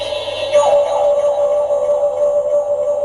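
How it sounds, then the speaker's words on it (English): The Doctor Who Flight Control TARDIS toy plays its interior sound effect as the doors open, a loud sustained electronic drone with a brief warbling swell early on, continuing steadily without speech. "So basically that's the sound of the inside of a TARDIS"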